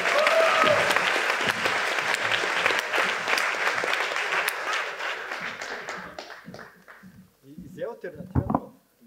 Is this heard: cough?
no